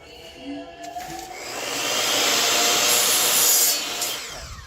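Wooden interior window trim being cut with a power saw for a tiny house, a rising broadband whine and rasp building over a few seconds, near and loud, then easing off at the end.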